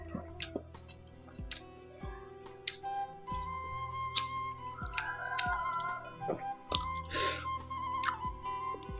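Close, wet chewing and slurping of spicy Mang Ade level 5 noodles, with irregular smacks and soft clicks spread across the clip and no talking.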